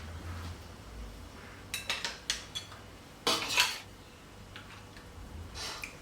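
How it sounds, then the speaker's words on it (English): Mussel chowder is plated, spoon and ladle clinking and scraping against a dish in a few quick taps, then a louder cluster of clatter and a softer scrape, all close and without talk. "Let's plate our lovely mussels."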